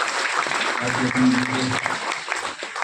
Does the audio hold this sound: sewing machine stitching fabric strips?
no